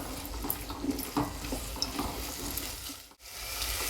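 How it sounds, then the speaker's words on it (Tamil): Carrots and beans are sautéed in a pan for vegetable rava kichadi, giving a low, soft sizzle with occasional stirring scrapes, fairly faint and without voices. "நம்ம எடுத்து வச்ச காய்கறி கேரட் பீன்ஸ் போட்டு நம்ம நல்லா வதக்கிக்கிறோம்"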